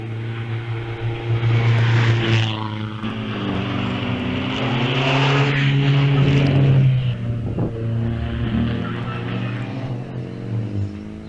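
Vintage Alvis 1250 racing car at the VSCC Wiscombe Park hillclimb, its engine droning steadily nearby with rising and falling pitch as it runs up to the start line, loud and continuous with no talk.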